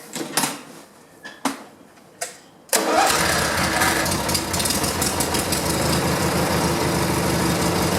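A riding lawn mower engine cranks in a few short bursts, then catches and settles into a steady, loud idle that holds close to the microphone until the end.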